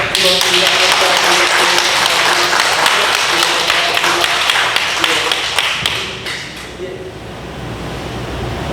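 A congregation claps for a church deacon during a Korean Sunday worship service. The clapping is dense and sustained, then thins out and fades after about six seconds, with a voice audible beneath it.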